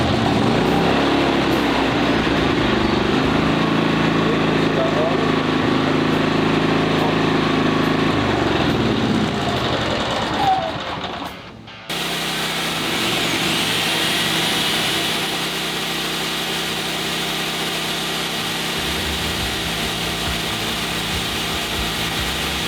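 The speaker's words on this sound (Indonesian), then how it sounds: "lalu kita langsung melakukan starter dengan tali starter manual" A Toho inverter generator, pull-cord started, hums steadily nearby, cuts out briefly with a clunk and rattle, then settles into a smoother, slightly higher running drone.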